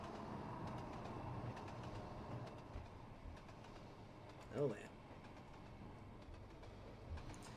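A commuter train rolls through a city route near Paris Montparnasse in Trainz Simulator 2, a steady low rumble with faint rail clicks and one brief squeal, while someone talks casually over it.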